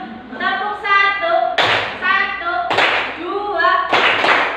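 A group claps a rhythmic classroom clap pattern in three short bursts of hands striking together, loud and close, with a voice speaking between the claps.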